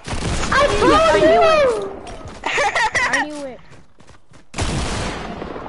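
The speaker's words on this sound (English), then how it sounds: "Why are you shooting me?" Gunfire in Fortnite, a burst of rapid shots and a few isolated cracks, sounding over and between excited voices that talk and shout.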